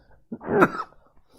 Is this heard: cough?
yes